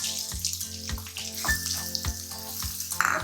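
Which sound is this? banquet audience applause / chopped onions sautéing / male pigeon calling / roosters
chopped onions sautéing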